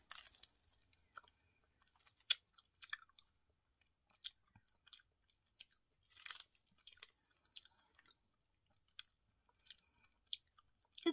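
Close chewing of a bright orange, chewy, sweet-and-sour American Halloween candy, with soft, wet, sticky bites that come in irregular bursts and pauses against a quiet background, no talking.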